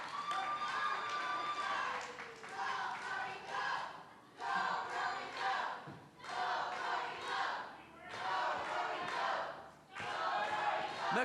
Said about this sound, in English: The crowd chanting for "Go, Brody, go!"